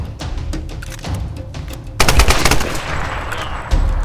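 Rapid assault rifle bursts in a Tomb Raider game, sparse shots at first, then a loud dense volley with sharp, close cracks and a final burst near the end.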